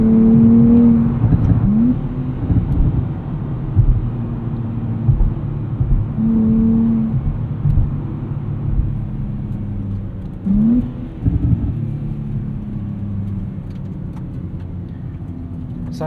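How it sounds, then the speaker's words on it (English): A 2024 Nissan Z Nismo engine blips and revs on downshifts inside the cabin, with several quick rising rev bursts over a steady loud drivetrain drone and road rumble, the pitch climbing then settling between shifts. "Downshifts are pretty satisfying."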